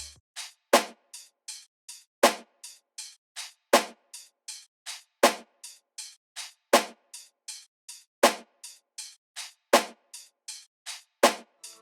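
A looped beat of open hi-hat samples with a snare repeats crisp, evenly spaced ticks, punctuated by heavier hits at a steady interval, dry and alone.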